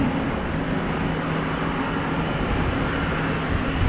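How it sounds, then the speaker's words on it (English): A KLM Boeing 787-10 in 100-years livery moves at a wet, windy Amsterdam Schiphol Airport, its engines producing a steady, moderately loud hum and rush that stays constant, with no talking. "that is the KLM 100 years 78710 that is on the move."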